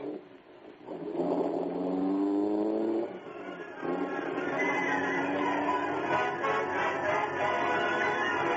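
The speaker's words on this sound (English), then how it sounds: "The great car roared into light." A powerful car engine, the Black Beauty, roars as a staged radio drama effect. It revs loud and close in two surging bursts with rising pitch, then holds a sustained throaty drone as the car speeds away.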